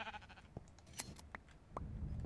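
Sheep bleat faintly in the Minecraft video game during shearing, with a few short clicks and brief game sounds scattered through.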